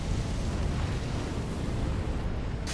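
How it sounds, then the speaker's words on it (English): A steady, roaring rush of fire breath from an archdragon in Dark Souls 3, a continuous broad blast that holds at even loudness throughout without pauses or voices. "it is going to breathe fire up onto here"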